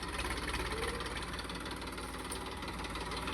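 A New Holland 3032 tractor engine runs in a field with a low, steady, knocking rumble. It stays constant and fairly faint throughout, with no talk.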